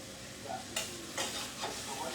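Onions fry in melted butter with cloves, cinnamon and bay leaves for chicken biryani, a soft close sizzle broken by a few quick stirring scrapes in the pan.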